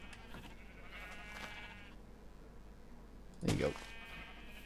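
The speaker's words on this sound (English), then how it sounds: "Look at all my bald sheep." A Minecraft sheep gives a short bleat near the end, clear and close, while someone talks over the scene and faint game ambience hums underneath.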